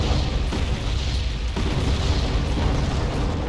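Continuous rumbling artillery explosions in the Cold War wargame WARNO, dense overlapping booms with sharper blasts around the half-second and mid-clip marks, loud and sustained without any talk.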